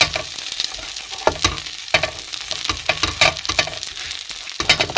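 Egg breakfast frying in a pan, street-food style, a close steady sizzle with crackling pops and occasional scraping stirs, no talk over it.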